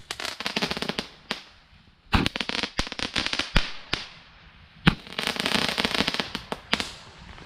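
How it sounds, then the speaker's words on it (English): Small Garden Fireworks shot tube going off outdoors, giving a dense run of sharp crackling pops and bangs in two clusters with a short lull between. "And let's do a shot tube."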